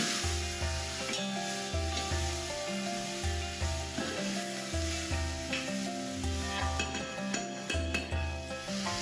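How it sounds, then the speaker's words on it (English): Cubed potatoes sauté for curry in a pan, giving a steady sizzle with rhythmic scraping and clinks from stirring, close and continuous with no talking. "And quickly just saute this for a minute."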